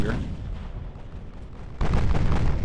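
Warship guns fire in the naval game Ultimate Admiral: Dreadnoughts, a deep booming blast opening and another heavy rumbling salvo following a moment later, loud and close.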